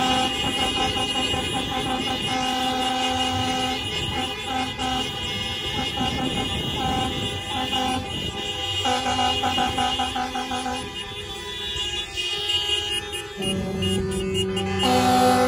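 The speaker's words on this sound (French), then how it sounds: "klaxonnons pour féliciter les diplômés 2020 de l'école" Many car horns honk together at an outdoor 2020 school graduation ceremony to congratulate the graduates, a dense, loud, sustained chorus of overlapping tones and blasts lasting throughout, with a long blaring alarm-like horn mixed in.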